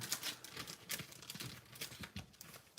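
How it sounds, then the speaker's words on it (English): A plastic bag crinkles continuously as an item is slipped back into it, giving a faint, close rustling with irregular crackles throughout. "I'm going to stick this back in the plastic bag."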